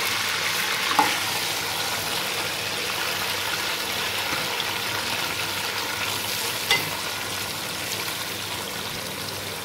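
Chicken pieces for chicken karahi fry in hot ghee, giving a steady, dense sizzle at moderate volume with a couple of brief sharp clinks of utensils.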